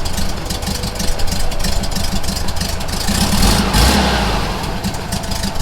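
VW Beetle engine running during carburetor adjustment, a close loud steady idle with uneven throbbing pulses and a brief rise in revs near the end, alone without talk.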